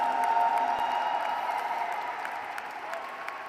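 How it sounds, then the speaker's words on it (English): Audience applause at an awards ceremony honoring lifetime achievers, a soft, distant wash of clapping from a crowd over a steady tonal hum, gradually fading. "So a huge round of applause for all the Lifetime Achievers."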